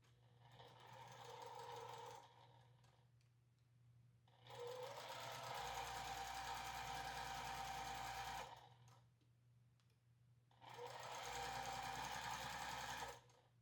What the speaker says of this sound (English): So at the sewing machine, I'm going to sew a 1/4 inch seam along here